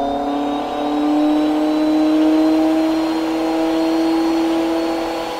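A high-horsepower car engine, making over 1,200 horsepower as it comes onto boost, revs near and loud with a steady rising drone and whining harmonic tones sweeping gradually upward for about five seconds, no voices over it.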